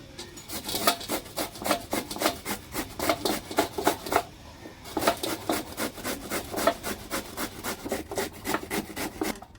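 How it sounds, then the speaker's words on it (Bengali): Ash gourd is grated with a hand scraper in rapid, rhythmic rasping strokes, close and loud, with a brief pause midway before the scraping resumes. "এবারে আমি চাল কুমড়োগুলোকে কুড়িয়ে নেব"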